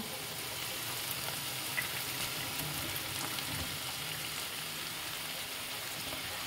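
Finely chopped carrots, beans and broccoli go into a hot pan for a restaurant-style veg chicken soup, and a steady, close hiss of sizzling runs through the whole stretch without pause.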